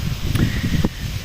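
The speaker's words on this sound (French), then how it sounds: "une nouvelle fois il y a du vent" Wind gusting outdoors near a village, a loud rumbling buffet across the microphone with rustling over it.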